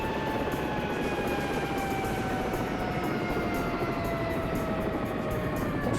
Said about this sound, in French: On arrête les turbines.